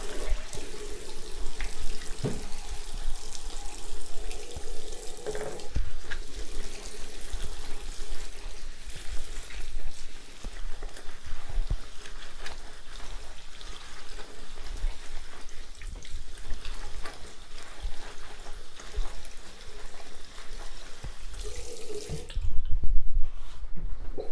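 Bathroom tap running steadily for a long stretch while hands or rubber gloves are washed beneath it, a close, even hiss of water with small splashes, then a brief louder gush near the end.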